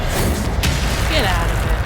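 Incendio fire spell cast in Hogwarts Legacy: a short whooshing burst of flame, then a second flaring rush, over steady game ambience with a voice speaking.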